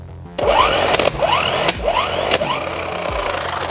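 A Seesii electric impact wrench tightens a car's lug nut in several rapid hammering bursts, each rising in pitch, loud and close after a brief quiet start.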